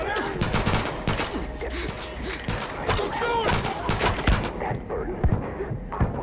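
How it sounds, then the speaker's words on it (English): Rapid automatic gunfire crackles in a Far Cry 5 firefight, with dense bursts of shots and impacts over several seconds while players talk over the shooting, thinning toward the end. "I got shot in the back"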